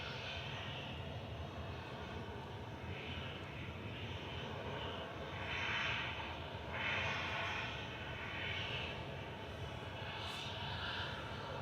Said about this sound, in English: Singapore to Houston is taxiing out. A350-900.